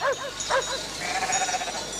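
Sheep bleat in a French TV commercial for sheep's milk cheese: a few short, wavering bleats close by in the first second, then quieter ambience.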